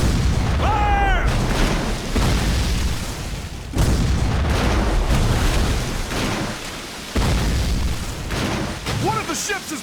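Ship cannons fire in a Civil War naval battle in a video game, with repeated heavy booms and rumbling explosions several seconds apart, and voices shouting over the blasts.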